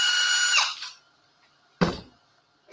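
A power drill drives screws into a manufacturing assembly, giving a close, high whirring spin that winds down and stops. A brief clunk follows, then quiet.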